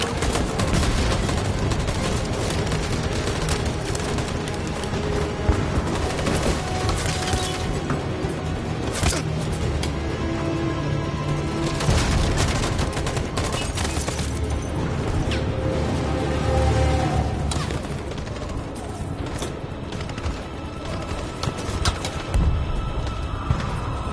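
Sustained gunfire in the video game Detroit: Become Human, dense volleys of loud shots and bursts rattling continuously for the whole stretch with heavy impacts mixed in, no talk.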